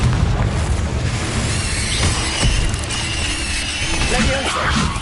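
A Confringo blasting spell explodes in Hogwarts Legacy, a dense booming rumble amid loud, continuous game combat noise, with no clearly separated single blast.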